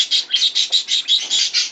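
Budgerigars chirping in rapid, loud, bright bursts, about ten repeated chirps close to the microphone with no talk.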